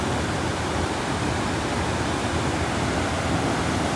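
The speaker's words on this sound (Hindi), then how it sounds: "पानी में करेंट देखियो सोन नदी में" The strong current of the Son river rushes in a loud, unbroken roar of water, steady and close throughout with no other sounds standing out.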